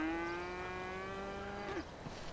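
A dairy cow in the GTA 5 video game gives one long, loud moo with a steady harmonic tone that drops off abruptly near the end, followed by faint ambient noise.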